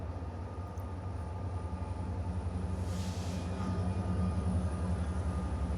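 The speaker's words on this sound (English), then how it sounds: "There's the train going by right now." A train passing nearby, a steady low rumble and rolling drone that swells slightly and holds throughout, with no talk.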